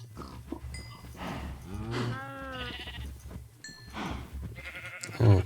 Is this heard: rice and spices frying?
no